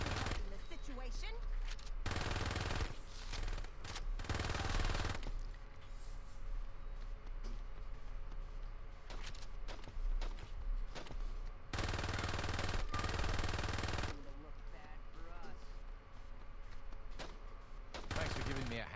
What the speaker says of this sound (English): Shooting these assholes.